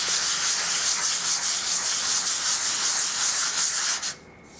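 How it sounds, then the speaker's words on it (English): Sanding a wooden sublimation blank by hand: a steady, loud abrasive rasp of sandpaper rubbing over wood, continuous for about four seconds, then stopping abruptly with only faint room noise left. "So I'm just going to sand this."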